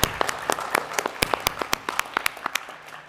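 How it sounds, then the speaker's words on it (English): A small audience at a school board meeting claps for student musicians, sparse individual hand claps with distinct, uneven spacing that thin out toward the end. "I'd like to just give them one more round of applause"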